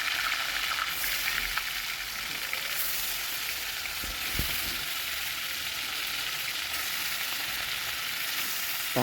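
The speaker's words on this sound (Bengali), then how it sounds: "মাছটা আমি এখন ভেজে নেব।" Pangas fish seasoned with turmeric, chili and salt fries in a pan, a loud, continuous sizzle with occasional pops and stirring clatter, no talking.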